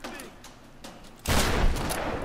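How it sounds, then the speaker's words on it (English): Enemy machine guns rattle in a Tomb Raider game, quiet scattered shots at first, then a sudden loud sustained burst of rapid fire for the last second, with no talking. "I hate those guys with the machine guns."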